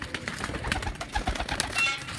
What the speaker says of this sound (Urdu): سارے یہ گولڈن کبوتر ہیں جی